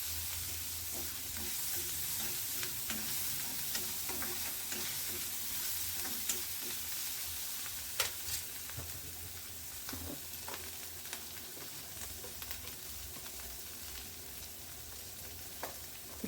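Ginger garlic paste frying and being stirred in a pan for ridge gourd palya, a steady soft sizzle with occasional spoon scrapes and clicks, close and alone.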